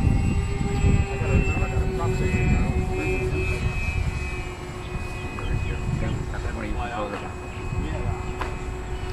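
A Twinstar II twin-engine RC model airplane flies aerobatics, buzzing steadily with a whining engine tone throughout, while people chat over it.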